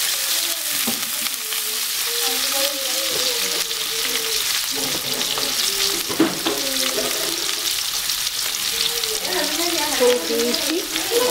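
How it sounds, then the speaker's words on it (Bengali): Vegetables sizzle steadily in hot oil with chopped onion, garlic and green chili in a home kitchen, a loud continuous frying hiss with occasional stirring scrapes throughout. "আমি সবজিটা রান্না করে ফেলতেছি, তেল দিয়েছি সবজিটা রান্না করার জন্য।"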